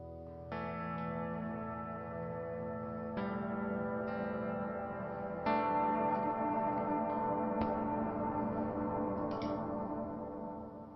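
A guitar chord held and sustained by the freeze function of a NuX Atlantic delay and reverb pedal's hall reverb, a steady shimmering wash with new chords struck over it at intervals, loud and alone.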